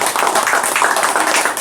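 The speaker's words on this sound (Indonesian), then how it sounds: "Sekali lagi tepuk tangan untuk Mak Temu dan kawan-kawan" Audience applauding traditional Osing performers from Banyuwangi, a dense, loud wash of many hands clapping at once, steady and unbroken, heard close with no speech over it.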